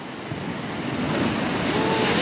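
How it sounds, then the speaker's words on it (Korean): Rough sea waves surging against a breakwater, a loud, close, continuous rushing wash of surf that swells toward the end, with wind buffeting the microphone. "방파제 바깥으로 이렇게 거친 파도가 몰아치는 동안"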